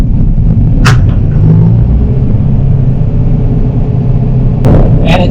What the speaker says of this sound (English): we're going to mow this field here, whether this spins or not